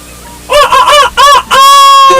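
A person imitates a chicken, giving a few short clucking bursts followed by a longer, drawn-out crowing call, loud and close.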